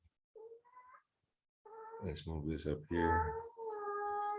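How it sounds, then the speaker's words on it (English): A pet cat meows several times close by, with loud, drawn-out, wailing yowls in quick succession after a brief spoken line from a person in the room. "excuse my cat is going crazy."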